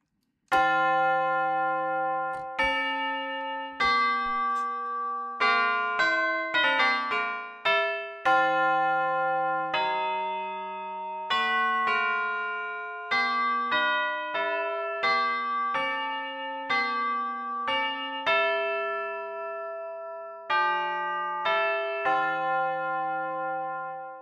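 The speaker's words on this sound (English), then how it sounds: "Okay, let's check out the tubular bells." Tubular bells from the Pianoteq 8 Stage play a slow melody of clear struck metallic tones that ring and decay between notes, sometimes overlapping in quick clusters, loud and alone.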